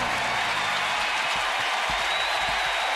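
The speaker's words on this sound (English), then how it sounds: "Fans applauding a young man who's coming to the plate" Baseball fans at Camden Yards in Baltimore applaud as a batter comes to the plate, a steady wash of clapping and crowd noise filling the ballpark throughout.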